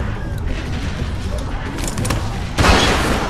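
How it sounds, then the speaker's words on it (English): A gunshot in The Walking Dead: 400 Days, a single sharp, loud blast landing near the end over a dense, rumbling bed of game noise, with voices heard around it. "Vince! Fire the fucking gun!"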